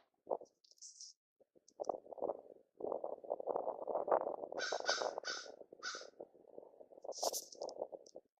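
A raven caws repeatedly, loud harsh calls in short bursts, alongside croaking and clicking vocalizations and a few higher squawks, close and alone without talk.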